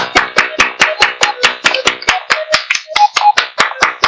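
Sharp, evenly spaced hand claps about five per second ring out loud and close at a live music session, with faint tonal chirps between beats.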